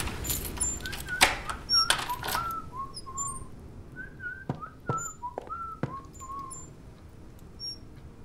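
A melodic whistled tune drifts through a video game scene, short rising and falling notes repeated in phrases, interrupted by sharp clicks and knocks, moderately quiet overall.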